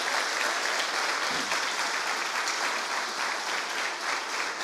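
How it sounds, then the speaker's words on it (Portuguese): A church congregation at a Sunday celebration service claps together in sustained, even applause, a dense crowd of hands clapping throughout with no talk over it. "Vamos aplaudir o nosso Senhor."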